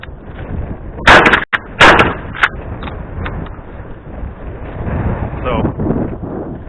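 Pump shotgun fired at a wooden post outdoors, two loud close blasts in quick succession followed by a sharper crack, set against steady wind noise and handling sounds.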